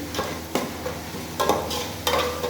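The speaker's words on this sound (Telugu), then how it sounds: "కొంచెం కలుపుకోవాలి చూడండి ఫ్రెండ్స్ బోటి కర్రీ" Goat tripe (boti) curry stirred in a pan, with about four distinct scraping strokes over a steady background sizzle, close and fairly loud.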